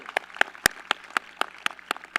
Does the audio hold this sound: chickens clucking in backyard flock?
no